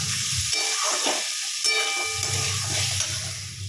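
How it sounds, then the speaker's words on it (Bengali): Cauliflower and potatoes, already boiled, are stirred and fried in a pan for Bengali vegetable musur dal, giving a steady close sizzle with scraping stir strokes that briefly drop out mid-clip before the frying hiss resumes. "নেড়ে ভেজে নিই।"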